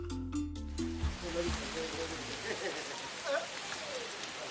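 Rain falls steadily as a broad hiss outdoors, with a few brief low thuds and clatters at the start and faint scattered sounds over the wash.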